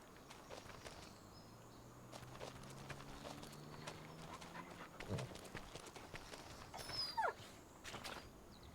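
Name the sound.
dog Shadow panting in video game Farming Simulator 25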